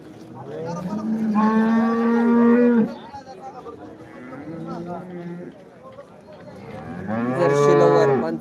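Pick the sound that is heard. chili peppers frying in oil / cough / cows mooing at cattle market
cows mooing at cattle market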